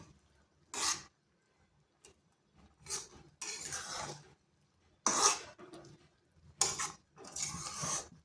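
Raw mango pickle being mixed with fried spices in a pot, separate bursts of spoon scraping and clinking against the vessel with quiet gaps between, close and moderately soft.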